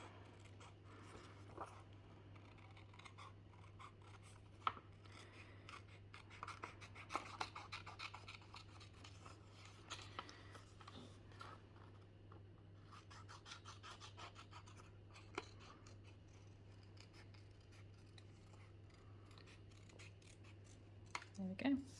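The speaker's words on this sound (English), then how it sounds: "So just cut out the heart." Scissors cut out a textured paper heart close by, with intermittent crisp snips and scratchy rustles scattered over a low steady hum and faint background sounds.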